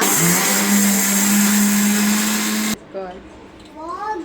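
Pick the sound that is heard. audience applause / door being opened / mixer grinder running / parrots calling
mixer grinder running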